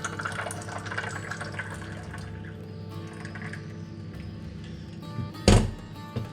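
Moroccan tea poured from one cup into another, a soft trickling liquid stream under room noise, then a sharp louder splash or clunk near the end.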